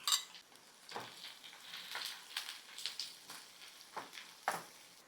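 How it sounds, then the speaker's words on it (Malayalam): Sliced onions sautéing in coconut oil in a pan for a duck pepper roast, a soft close sizzle with repeated rhythmic scraping and stirring strokes and occasional light metallic clinks. "പാൻ വെച്ച് ഇനി വെളിച്ചെണ്ണ ഒഴിക്കാം എരിഞ്ഞു വെച്ച സബോള വഴറ്റ"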